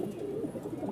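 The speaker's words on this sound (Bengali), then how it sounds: "3 জোড়া কবুতর" Pigeons at a pigeon sale give a soft low cooing, a brief, faint murmur up close with no voices over it.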